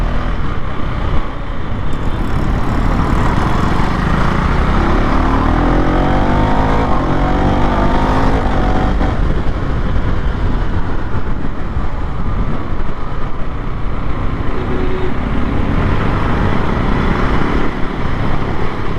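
A KTM Duke 390 motorcycle rides through Chennai night traffic, its engine and road rumble forming a loud, continuous roar with wind buffeting, with no talk over it.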